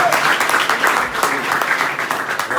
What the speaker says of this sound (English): please give a big applause for Marshall